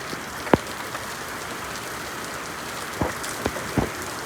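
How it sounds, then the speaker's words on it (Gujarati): Rain falls in a village during a storm, a steady soft hiss of drops on surfaces with a few sharp nearby drips or taps standing out. "હજુ તો વરસાદ બહુ જ ચાલુ થઈ ગયો."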